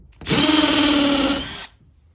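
A Milwaukee M12 FUEL 1/2-inch drill/driver runs in hammer mode, one loud close burst of high whining, buzzing rotation lasting over a second before cutting off.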